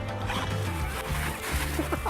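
A YKK watertight zipper on an easy-access pocket of a Cordura backpack is pulled in short rasping strokes, close up over a steady background hum.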